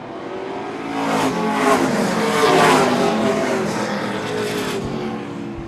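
Pro stock race cars at Seekonk Speedway in 2008 roaring loudly around the oval in single file, engine noise swelling as the pack passes near and fading slightly afterward.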